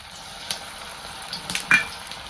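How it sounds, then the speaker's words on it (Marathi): Kothimbir vadi made from bajra flour and moong dal frying in hot oil, a soft steady sizzle with a few brief crackles and spatters, no voices. "मी ह्यात वड्या सोडून घेते बघा हे दोन्ही साईडनं छान असे मी वड्या तळल्या"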